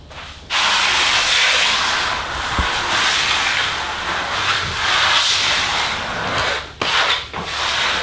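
Power sander working over fibrous Lecol filler: a loud, close, continuous rasping hiss that runs almost unbroken, with a brief dip near the end.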